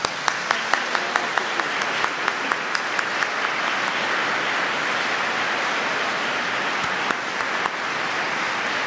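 A concert audience applauds warmly after a choir and chamber orchestra perform Dittersdorf's Requiem, steady dense clapping with a few sharp individual claps standing out early.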